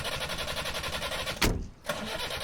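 A car engine cranks and catches with a brief loud burst, dips, then settles back into a steady hum beneath a continuous background drone.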